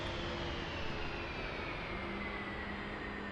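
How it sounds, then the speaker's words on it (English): Jet engines shut down in the DCS World flight simulator, a steady loud turbine roar with whining tones sliding slowly downward as they spool down, with no talking. "Okay, engines are shutting down."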